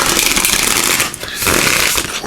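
Oracle cards are shuffled briskly by hand, a dense rapid riffling flutter that pauses briefly and then continues, close and fairly loud.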